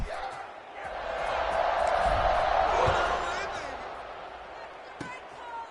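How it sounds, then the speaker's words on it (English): A stadium crowd at a football game buzzes after a score, a broad murmur swelling to a peak and then fading, with a few sharp knocks; no one speaks clearly. "this crowd is buzzing after that last score"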